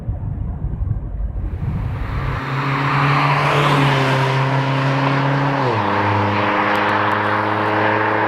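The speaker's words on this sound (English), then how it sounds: "the sounds of the exhaust really are louder in this car" A Mazda Miata RF's engine and exhaust drone loudly on the move. Rising harmonic pitch climbs through the revs, then drops at a gear change and settles into a steady, close, continuous note.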